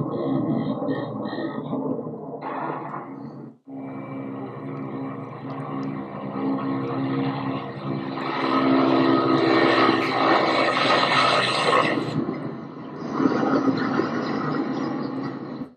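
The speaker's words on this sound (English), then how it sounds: "there are videos of this potentially Ukrainian Mi-24 attack helicopter" A potentially Ukrainian Mi-24 attack helicopter flies during an attack on an oil depot. It makes a loud, steady rotor and engine roar that briefly cuts out, then swells again and holds.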